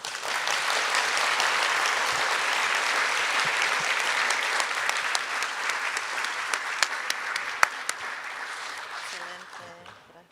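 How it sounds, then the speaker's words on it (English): Sustained audience applause at a college convocation, a dense, even wash of many hands clapping for about ten seconds with a few sharper nearby claps, fading out at the end. "Let's give another round of applause to Dr. Regina Stanbeck-Stroud."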